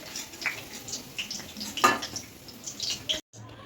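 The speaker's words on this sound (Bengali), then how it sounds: "এবার ছেড়ে দেবো হচ্ছে কড়ার মধ্যে কাঁকরোলের ব্যাটার, ভেজে নেবো 2 পিঠ" Batter-coated pointed gourd slices frying in a pan on low to medium gas, with a soft continuous sizzle, scattered crackles and a brief louder burst midway before the sound cuts off abruptly.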